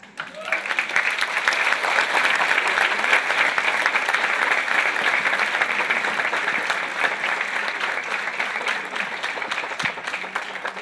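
An audience at a live stage event applauds, steady dense clapping that swells quickly and holds for about ten seconds before tapering slightly, with a voice talking faintly over it.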